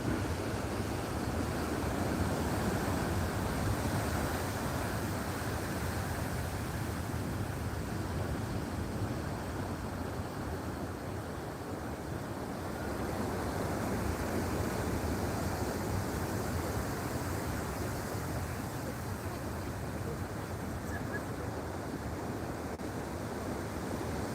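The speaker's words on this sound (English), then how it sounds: "I do love the sound of the ocean" Ocean waves at sunset at Bouznika, a steady broadband wash of surf rolling continuously with some wind noise, even and moderately loud, with no voices.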